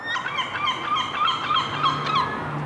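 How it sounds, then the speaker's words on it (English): A herring gull gives its warning display near scavenged bin bags, a loud, close series of repeated harsh calls in a rapid, pulsing rhythm, with other gull cries behind it. "This herring gull is making this clear with his warning display."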